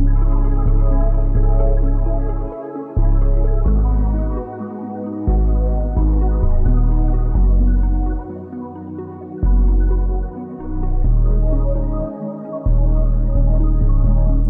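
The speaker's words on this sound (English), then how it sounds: "So the 808 in context sounds like this now." A deep, booming 808 bass drives a steady hip-hop beat, its sustained low notes pulsing loudly in rhythm with the drums throughout.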